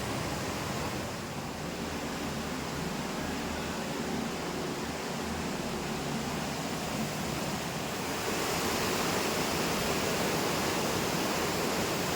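A Konkan waterfall gives a steady, full-bodied rush of falling water, a constant close hiss and roar with no breaks and no voices.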